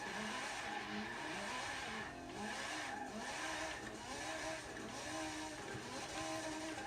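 A Lancia Stratos in Forza 7 revving hard through a wheelie, engine note rising and falling in repeated surges with tire skid and squeal, steady and close with no talk.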